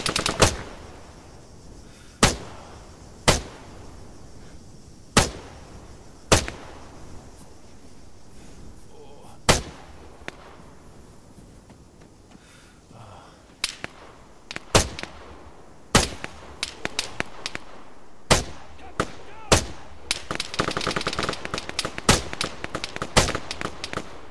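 Single loud gunshots crack out at irregular intervals in a sparse firefight, then quicken into a denser burst of rapid fire near the end, over a quiet hiss.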